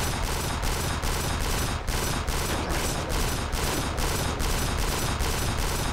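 Sustained automatic gunfire in the video game Kane and Lynch 2, a loud rapid stream of shots in a steady rhythm lasting the whole stretch with only a brief break.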